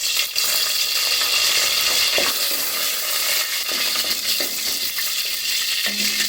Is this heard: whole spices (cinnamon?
yes